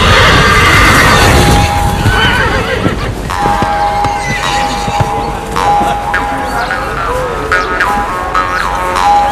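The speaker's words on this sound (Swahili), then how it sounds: "Farasi akatoa mlio mmoja wa ajabu sana kiasi cha kwamba wenzake wakaitikia." A horse gives a loud whinny near the start, followed by further neighing and hoof clatter from other horses, all set against a busy film scene with crashes and background sound.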